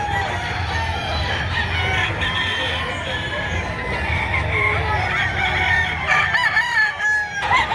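Chickens cluck and roosters crow repeatedly at a poultry market in Batangas, a busy layered mix of calls near and far under people talking.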